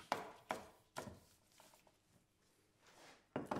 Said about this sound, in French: je vais couper en morceaux des parures de poireaux